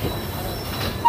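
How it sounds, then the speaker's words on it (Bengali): A train pulls out of Kishanganj station, wheels squealing on the rails in a steady, fairly close rumble with a brief louder tone at the end. "আমাদের ট্রেন কিষানগঞ্জ স্টেশন থেকে ছেড়ে বেরিয়ে গেল"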